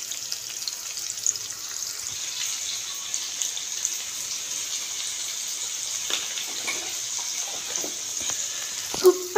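Long-sliced onions sizzle in a pan for egg bhurji, a soft steady hiss close by with a few light stirring clinks near the end.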